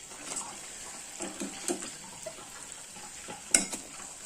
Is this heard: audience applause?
no